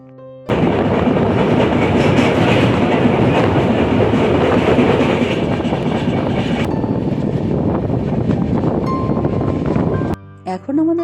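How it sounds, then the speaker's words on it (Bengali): Saraighat Express on the Howrah to Guwahati route pulls into Kamakhya station, a loud, steady roar of wheels and rattling carriages with wind buffeting, ending in a sudden drop and a short squeal. "এখন আমাদের ট্রেন কামাখ্যা স্টেশন ঢুকছে"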